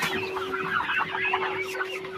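Chickens clucking continuously close by, several birds overlapping in busy, chattering calls with a steady background hum.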